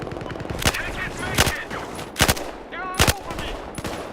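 Bursts of gunfire in the video game Battlefield Hardline, several sharp loud cracks spaced irregularly over a busy background, with a voice speaking briefly between the shots.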